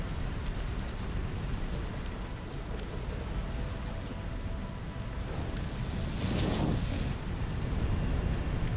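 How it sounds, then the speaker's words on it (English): Steady rainfall in the video game Satisfactory hisses continuously across the whole stretch, a dense even wash of drops that swells slightly louder partway through, with no voices over it. "So rain sounds in games is like perfect."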